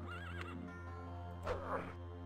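A horse neighs in The Elder Scrolls Daggerfall, a wavering whinny at the start and another sharper whinny midway. Both sit over a sustained low musical drone, and no one speaks.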